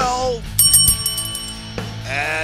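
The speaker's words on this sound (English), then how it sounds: "Ring the bell!" A bright bicycle bell rings in a quick burst of dings, loud and close, bracketed by an excited voice.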